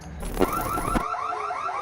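A car-style alarm sounds inside a restaurant on Ludlow Street in Manhattan, repeating steady warbling electronic sweeps, loud and close, with a couple of brief thumps near the start.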